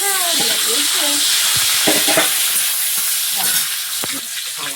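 Loud, steady sizzling of whole spices and bay leaf frying in hot oil in a wok, with intermittent scraping and stirring clatter from a utensil close by.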